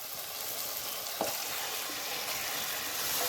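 Marinated chicken frying in a pan for a village-style chicken curry with ground spices, giving a steady broadband sizzle throughout with one faint clink of a utensil, no voices.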